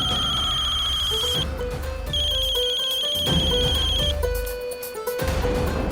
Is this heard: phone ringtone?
yes